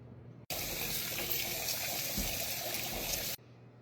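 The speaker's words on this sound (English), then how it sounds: "peel your potatoes, and I give them another good rinse" Peeled homegrown potatoes rinsed under a running kitchen tap, a steady close gush of water lasting about three seconds, starting and stopping sharply, with no talk.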